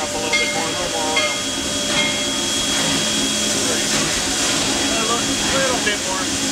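Inside the cab of the #7 steam locomotive, a steady loud hiss of steam runs throughout, with rumbling machinery beneath and some faint background voices.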